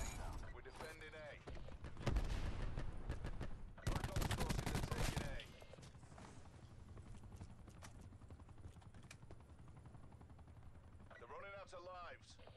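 Bursts of automatic gunfire crackle in Call of Duty Black Ops 4, two loud dense volleys early on, then quieter distant shots with game voices speaking over the battlefield ambience.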